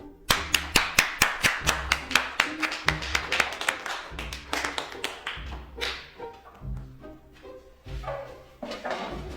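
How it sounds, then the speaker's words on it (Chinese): A group of people in a classroom claps hands together, a close burst of many quick, even claps that thins into scattered, looser clapping toward the end. "好，大家鼓掌。"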